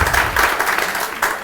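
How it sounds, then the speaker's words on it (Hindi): Classroom applause welcomes a returning student at a coaching academy, a short loud burst of clapping from a group of students, close and continuous. "ताली से इनको स्वागत कीजिए आप लोग।"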